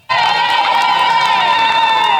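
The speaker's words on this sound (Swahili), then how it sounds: "Makofi mengi kwao." A crowd at an album launch bursts into loud cheering and shouting that starts abruptly and stays at full strength throughout.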